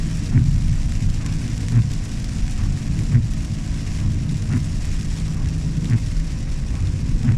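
Heavy rain drums steadily on a car roof during a drive in Newfoundland, a dense continuous patter with low rumbling underneath and occasional louder splats, no voices.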